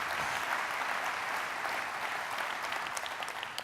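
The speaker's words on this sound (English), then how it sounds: "How about a round of applause for those folks," Steady applause from an audience honouring Guard and Reserve partners, an even wash of clapping that holds at one level and stays clear of talk.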